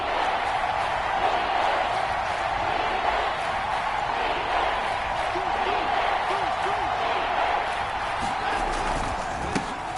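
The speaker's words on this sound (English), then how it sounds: "The crowd getting into it as we come up on a big 3rd down." A stadium crowd in a video game football broadcast gives a steady, broad roar that swells slightly ahead of a big third down, with a commentator talking over it.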